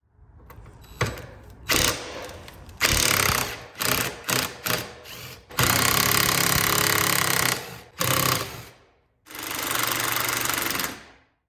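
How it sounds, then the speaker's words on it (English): Bolts on a rusty Jeep YJ gas tank skid plate being undone with a power impact tool, loud rattling bursts of varying length separated by short pauses. "I'm going to try to undo some of these bolts up here and all of the wiring"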